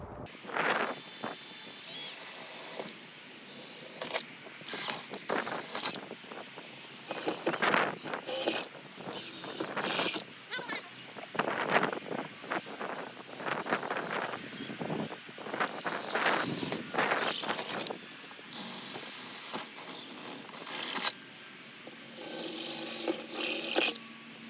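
A power drill bores holes with 3/8 and 1/2 inch bits while a doggy door is being installed, giving intermittent whirring bursts separated by short pauses, close and fairly loud, with no talk.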